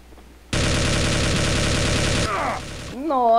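Sustained burst of loud, rapid automatic gunfire from the shooting video game Under Fire, dense and continuous for about two seconds, then trailing off into lighter game effects and rising tonal sounds.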